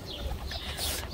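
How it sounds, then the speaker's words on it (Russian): Pigeons cooing in a crowd at a city pond where birds are being fed millet, a steady soft murmur of coos with broadband outdoor noise around it and no talking. "Сколько ж тут голубей"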